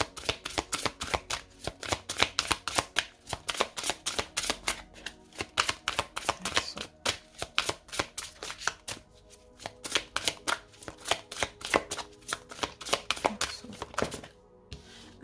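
Oracle cards are shuffled and drawn by hand at close range, a long run of quick papery riffles and snaps in uneven bursts with brief pauses between them.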